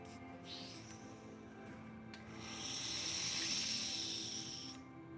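An air compressor with a stuck pressure gauge gives off a steady, close hiss of escaping air that swells and then stops abruptly, following a few faint rubbing sounds.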